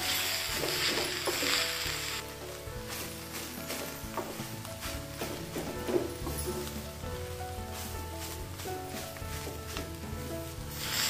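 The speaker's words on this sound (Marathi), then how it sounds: "त्यानंतर घालूयात पिळून ठेवलेले कोंबाचे काप आणि सर्व एकजीव होईपर्यंत परतून घेऊयात।" Squeezed slices of tender bamboo shoot sautéed in a pan, a close, steady sizzle with repeated scraping stir strokes throughout, no voice present.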